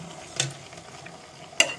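A spoon stirs meat and chili in a cooking pot, making two sharp scraping clanks about a second apart over a faint, quiet background.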